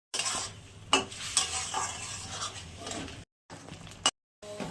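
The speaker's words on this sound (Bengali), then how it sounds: "এবার মশলাটা ভালো করে কষিয়ে নেব।" Spice masala with jaggery sautéed in a pan for a fish and teasel gourd curry, a loud close sizzle broken by sharp spatula scrapes and clinks, cutting out briefly twice near the end.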